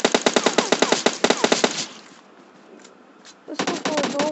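Rapid automatic gunfire in PUBG Mobile crackles in two dense, close bursts separated by a short lull with a couple of faint distant shots.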